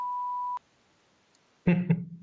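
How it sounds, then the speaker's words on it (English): A steady high-pitched censor beep sounds for about half a second, followed by silence and then a brief burst of noise. "I also have a beep button now."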